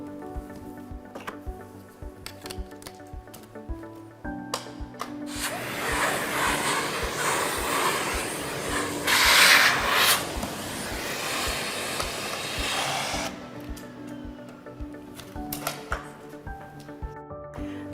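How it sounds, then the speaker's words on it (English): A Miele Blizzard vacuum cleaner fitted with an upholstery brush whooshes over furniture, its broadband suction swelling for several seconds amid light ticking handling noises before falling away. "With the upholstery brush, you can easily remove lint and hair from furniture."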